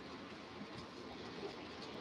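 A model railway train runs along the track of a layout, giving a steady, even mechanical rumble and faint rail clatter that stays constant throughout, with no voices.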